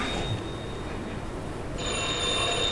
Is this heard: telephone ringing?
yes